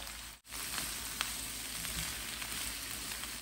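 Cubed onion and vegetables hit a hot pan where chicken is frying for a Chinese-style vegetable dish, giving a steady, loud, continuous sizzle with a brief dip near the start and faint stirring clinks.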